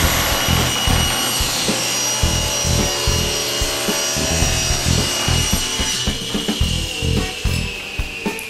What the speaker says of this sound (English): tilt this thing on its side and cut it right in half